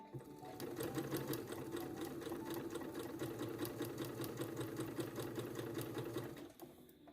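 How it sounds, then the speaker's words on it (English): A sewing machine stitches bias tape along a seam allowance, its rapid even needle clatter running steadily up close for about six seconds before stopping abruptly. "Now we'll take this to the machine and we're going to stitch 1/4 inch from the edge of our seam allowance."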